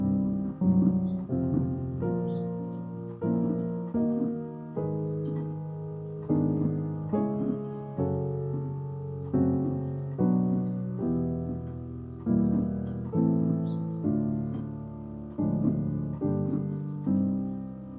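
A piano plays a looping minor 2-5-1 chord progression in C alone, moving through repeated phrases at a moderate, even pace.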